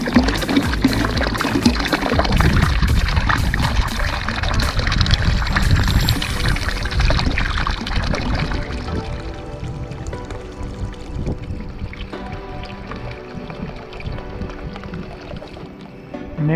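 An electric bilge pump drains water out of a kayak on Lake Mulwala, a steady splashing, trickling pour close by that runs continuously and gradually thins out toward the end.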